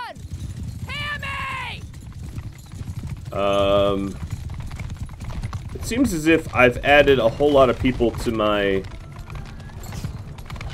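Horses gallop in the video game Mount and Blade Bannerlord, their steady clip-clop of hooves running beneath continuous game noise while someone talks over it throughout.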